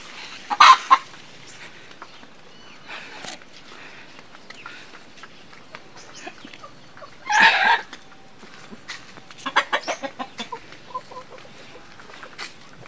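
Chickens inside a backyard coop give scattered clucks and squawks, with a few louder bursts and a quick run of calls near the end over a quiet background.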